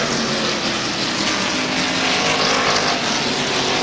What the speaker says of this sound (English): Car number 70, Rick Jentis.